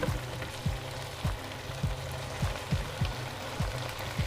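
Chicken pieces frying in a pan with onion and spice paste give off a continuous sizzle, with a regular rhythmic scraping as the mix is stirred, close and moderately loud.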